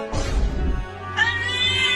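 A cat gives two meows close by, the first low and drawn out, the second higher and more nasal, with a steady low hum in between.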